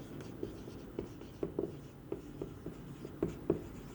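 A pen writes on paper while working through an accounting ratio calculation, a series of soft close scratches and taps in an uneven rhythm, no talk.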